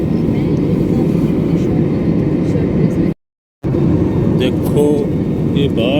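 Steady broadband roar of an airliner cabin in flight on a Hyderabad to Port Blair route, continuous and loud with a brief dropout midway, faint tonal sounds appearing near the end.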